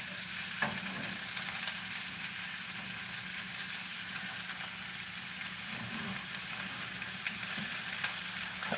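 Onions frying with meat in a pan give a steady, loud, continuous sizzle with a few faint clinks, no voices.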